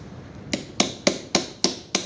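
Six sharp, evenly spaced hammer blows ring out on metal while taking the tracks off a digger, each strike loud and close with a short metallic ring and no talking.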